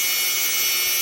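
A Dremel rotary tool grinds on old turquoise jewelry, giving a steady, bright, hissing whir that holds even for about a second with no voices.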